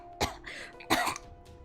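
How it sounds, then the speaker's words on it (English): A character in the visual novel Hakuoki: Kyoto Winds coughs twice in quick succession, harsh and rasping, close up over a faint background tone. "he coughed as if his lungs were gonna collapse"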